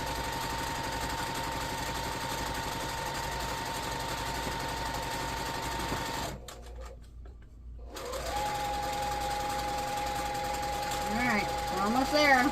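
A sewing machine back stitches along the edge of a fabric placemat, running in steady bursts with a brief pause midway before whirring again under light background talk.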